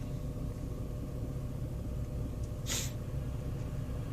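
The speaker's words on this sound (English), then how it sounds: "more traffic." Steady low rumble of idling cars in stopped morning traffic at about eight o'clock, continuous and close, with a brief hissing burst near the end.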